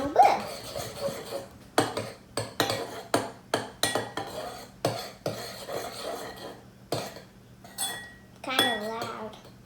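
A utensil clinks and scrapes against a bowl in repeated short strokes while a glue-based fluffy slime mixture is stirred, with brief quiet breaks between strokes.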